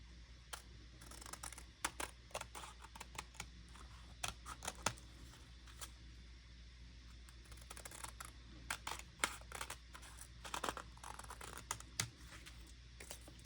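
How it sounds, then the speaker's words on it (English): Scissors snip through tulle and paper together along a printed cutting line for a Christmas junk journal, a steady run of small, quiet clicks and crisp cuts heard close up with no talk. "And I'm cutting the extra tool and paper at the same time."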